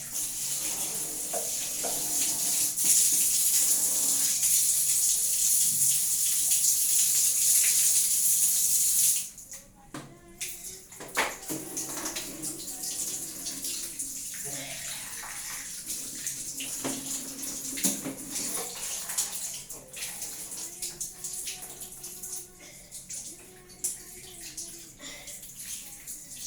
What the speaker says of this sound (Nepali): पानीले पखाल